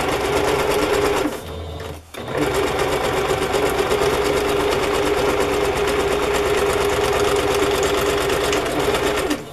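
A sewing machine stitches steadily through fabric and yarn fringe. The close, loud motor whir runs continuously, pauses briefly near the start, then resumes with no speech.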